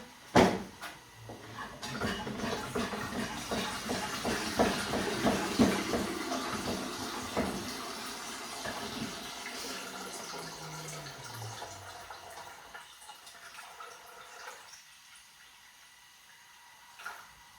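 Water is poured into a cooking pot of buckwheat groats in a home kitchen, a steady splashing fill running through most of the stretch with a few knocks at the start, then fading toward quiet near the end.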